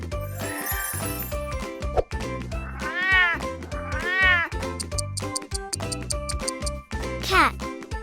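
Cat meowing several times in a children's farm-animal learning segment, drawn-out rising and falling meows over a busy, jingly music backing that plays throughout.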